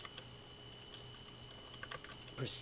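Quiet, close typing on a computer keyboard: scattered light key clicks at an uneven pace, ending in a slightly louder burst of keystrokes.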